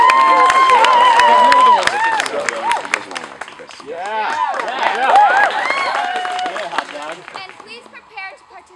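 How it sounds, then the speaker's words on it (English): A skit night audience breaks into applause and cheering after a sung, melodic opening, with crowd voices and shouts mixed into the clapping, which fades and then swells again. "Please give her a big round of applause."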